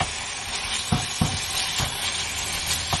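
Salted chicken pieces frying in a hot pan over medium heat, a steady bright sizzle broken by a few soft knocks of stirring, with no talking.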